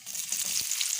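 Onion and cumin sizzle in hot oil in a kadai, a steady bright hiss with a short crackle near the middle, close and moderately loud with no speech.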